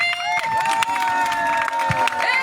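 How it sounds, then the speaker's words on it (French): A crowd at a protest rally applauds and cheers, with scattered clapping and a babble of voices underneath, a loud tonal sound ringing through it. "On applaudit, sortez les mains des poches, on applaudit."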